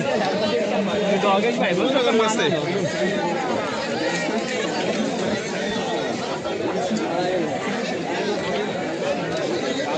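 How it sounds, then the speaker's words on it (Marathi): Dense crowd at the Mhasa fair in Murbad, a loud continuous hubbub of many overlapping voices and chatter close around, with occasional shouts and bird calls in the mix. "तर मित्रांनो जसा टाइम होतो तशी आज गर्दी वाढत चालली"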